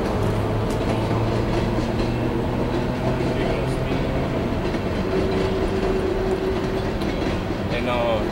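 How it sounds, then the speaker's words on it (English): An empty northbound CSX coal train led by locomotive 833 rolls past on the rails in Richmond, Virginia, a continuous heavy rumble with rhythmic clacking and low engine tones, close and loud throughout. "That's some weird coal train right all there."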